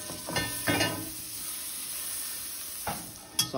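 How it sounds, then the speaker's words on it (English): Butter sizzling in a Made In 12-inch blue carbon steel frying pan, a soft steady frying hiss broken by a few short scraping stirs and a light metallic clink near the end. "I'm just going to add a little bit more butter to the pan"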